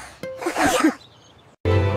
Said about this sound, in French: Les éternuements les plus stupides de tous les temps.